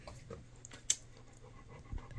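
Very skinny puppies pant faintly and quickly up close, the soft rapid breaths broken by a small sharp squeak in an otherwise quiet space.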